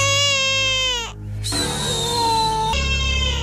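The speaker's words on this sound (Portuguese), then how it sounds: "Esse é o choro de um bebê." A baby cries close by in loud, wailing bursts, one long cry, a brief catch of breath, then another drawn-out wail.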